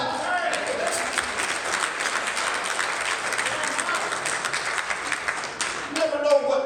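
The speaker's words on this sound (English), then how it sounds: "Come on, y'all can clap." A church congregation claps together in steady, sustained applause across the room, many hands blending into a continuous patter, with voices rising over it near the end.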